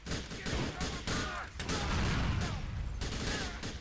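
Pistol fire in the video game GTA 4 The Lost and Damned, a dense chaotic stretch of repeated shots and gunfight noise filling the whole moment, loud and continuous with overlapping impacts.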